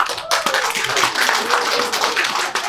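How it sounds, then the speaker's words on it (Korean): Audience clapping at a book launch ceremony for a fantasy novel, a dense, steady wash of many hands filling the whole stretch, with a voice faintly threaded underneath. "자, 박수 한번 보내드리죠"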